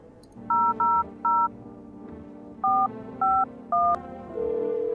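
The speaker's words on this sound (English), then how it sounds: "So I'm gonna try calling this early." Telephone keypad tones in the video game Only Let Humans In: six short, evenly spaced dial beeps in two groups over a low background hum, ending in a steady tone.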